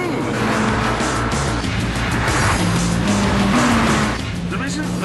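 A Honda Civic Type R engine revs hard near 8,000 RPM, a loud, steady high-pitched howl with slight pitch shifts, continuous for several seconds with a voice faintly under it.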